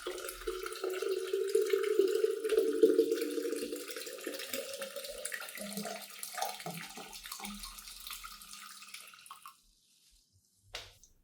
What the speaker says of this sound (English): Add 2 liters of water and stir well.